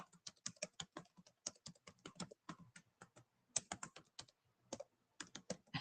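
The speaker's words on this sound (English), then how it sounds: "Hold on, I have to type." Someone types on a computer keyboard, with quick irregular clusters of crisp, close keystrokes and short pauses between them. No other sound is present.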